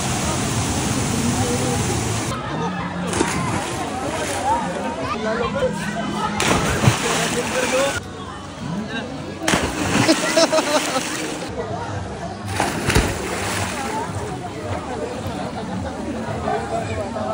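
Water splashes and sloshes steadily in a flowing spring pool at Banyan Spring Resort in Cebu, with children playing under a constant crowd babble and loud chatter throughout.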